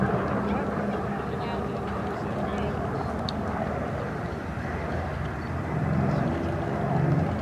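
Three Corsair warbirds, about 6,000 horsepower of piston engines combined, pass left to right at an airshow, giving a steady, broad propeller-engine roar that swells slightly toward the end while a commentator talks over it.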